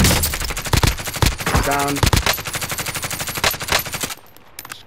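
Rapid automatic gunfire in a shooter video game, loud bursts and repeated shots filling most of the clip, with a player's brief voice over it before it drops away near the end.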